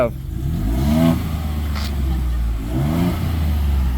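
A 2024 Ford Bronco with stock exhaust revving up twice, each rise in engine pitch sharp and close, with idle rumble between and a short voice in the background.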